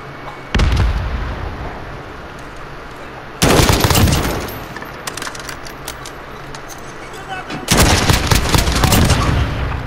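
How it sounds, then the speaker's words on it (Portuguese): In Call of Duty Modern Warfare gameplay, a grenade blast and gunfire hit as three sharp, loud explosive bursts, each decaying into sustained crackling battle noise over a low background din. "Granada lançada."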